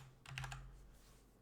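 A short flurry of four or five quiet keystrokes on a computer keyboard while typing code, close and soft above a low steady hum, with no talk.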